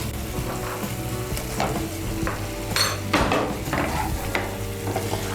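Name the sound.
fried potatoes stirred into cashew-poppy spice paste in pan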